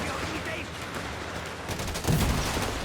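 Artillery barrage in a Company of Heroes 3 match, a dense rumble of game gunfire and battle noise that swells into a louder, heavier burst of explosions near the end.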